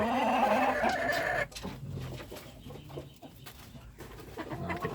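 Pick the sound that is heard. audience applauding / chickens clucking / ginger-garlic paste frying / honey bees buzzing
chickens clucking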